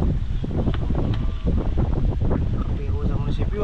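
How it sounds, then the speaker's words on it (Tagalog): Strong wind roars steadily against the microphone, a constant low rumble with gusty buffeting, while people talk over it. "Grabe naman kasi ang hangin oh"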